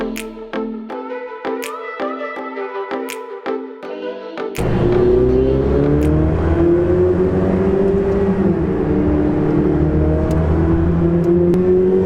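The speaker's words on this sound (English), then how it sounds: "we'll probably rev the car up, we'll probably hear the startup of this car, the beautiful V8 roar" A Ferrari 488 Pista with a V8 engine starts out with a run of sharp, rhythmic percussive hits, then gives way to a loud, sustained engine roar as the car drives, the pitch rising and shifting with the revs.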